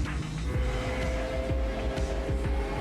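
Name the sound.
racing car engine sounds in Gran Turismo 7 trailer, video game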